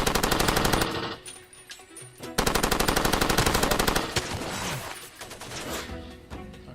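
Rapid automatic gunfire in Far Cry 2 blasts out in long, loud bursts of evenly spaced shots, pausing briefly between volleys, with a few scattered distant shots and impacts.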